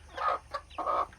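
Native Karinkozhi hen, an old-lineage country breed, calling near her newly hatched chicks: a few short, fairly loud clucking bursts in quick succession with brief pauses, no talking.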